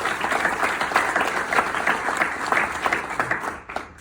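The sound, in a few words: audience round of applause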